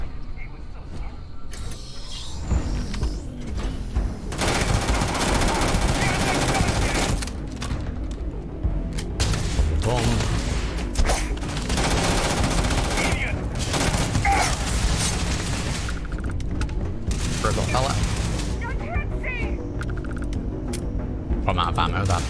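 Heavy, continuous gunfire during a fight with pirates in Starfield, dense bursts and mechanical clatter running through most of the stretch with short gaps, loud and close.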